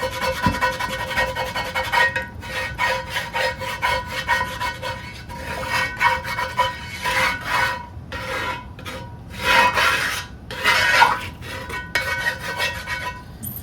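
A small scraper rasps across a cast iron skillet to clean it out, making repeated short scraping strokes in uneven bursts, close and fairly loud, with no talking.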